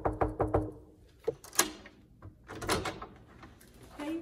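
A dorm room door at the College of Staten Island gives a run of quick close knocks and thunks, then a louder bang and a few softer handling clunks and rattles, with no talk.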